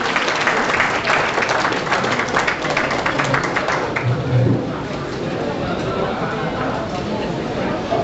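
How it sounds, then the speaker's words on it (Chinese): Guests applaud at a Taiwanese chamber of commerce founding banquet in the Solomon Islands, steady clapping from a sizable room with voices mixed in throughout. "请各位来宾掌声"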